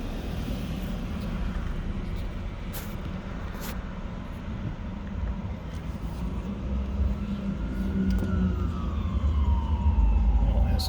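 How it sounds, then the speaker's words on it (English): Emergency sirens wail from behind a moving car driving through a city street, a rising-and-falling tone emerging faintly over steady road and engine rumble and growing a little louder toward the end. "Some sirens behind me."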